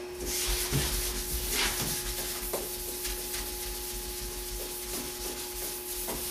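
A primed Fiat Spider car body is wet sanded with 320-grit paper, giving a soft, continuous rubbing hiss with faint scrapes over a steady background hum.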